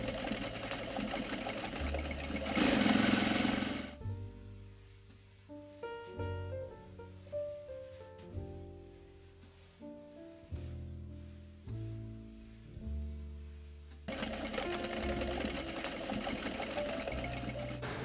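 A sewing machine stitches a flat-felled inseam on a pair of shorts, with bursts of fast mechanical whirring broken by a stretch of quieter, slower stitching and pauses, heard close and alone.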